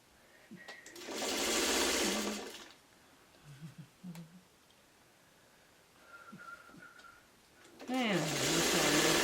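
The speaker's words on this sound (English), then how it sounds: "Now, to avoid not being able to see this, I'm going to sew it this way." A sewing machine stitches the sides of a quilt block for a Triple Sawtooth Star in short, loud, close bursts of fast whirring, separated by quiet gaps with soft handling and a few spoken words.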